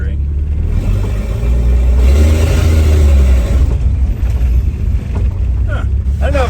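A supercharged 1963 Plymouth Valiant six, boost fed through a Carter BBD carburetor, roars at full throttle with a loud, steady low drone and a slight rise in pitch near the end.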